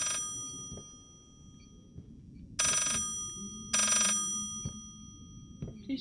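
A telephone rings in the horror game Layers of Fear, two loud bursts of ringing standing out over a low, murmuring background with faint thumps.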